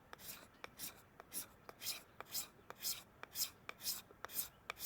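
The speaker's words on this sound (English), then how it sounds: "we're going to take this piece right here and we're going to scrape off" A blade scrapes a piece of fatwood in quick repeated rasping strokes, about two per second, each a short dry scratch heard close and fairly quiet.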